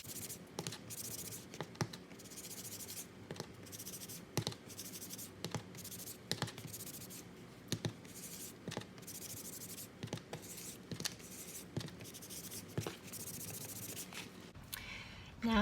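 Distress ink being worked onto an art journal page gives a steady dry scratching and rubbing, with repeated strokes at a fairly even rhythm, close and soft with no talk over it.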